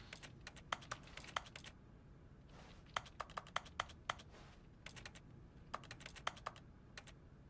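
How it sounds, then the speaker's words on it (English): The Stanley Parable's menu selection sound resembles computer keyboard typing, with clusters of quick, crisp clicks in bursts separated by short pauses, fairly quiet and alone. "when I select something, it sounds like a keyboard"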